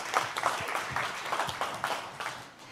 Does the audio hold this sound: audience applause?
yes